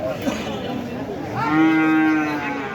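Cattle at a Bangladeshi livestock market moo loudly and close by, including Holstein Friesian cows; one long, drawn-out low moo rises and holds with rich harmonics over background crowd murmur.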